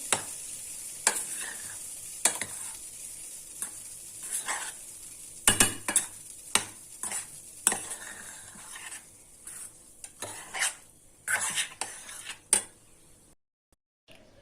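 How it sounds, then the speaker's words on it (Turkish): Bulgur pilaf with lentils and oil is stirred in a pan with a spoon, giving intermittent scraping strokes and clinks over a faint sizzle, the stirring spaced irregularly and then stopping into near silence at the end. "Güzelce karıştırıyoruz yağımızı pilavımızla birlikte"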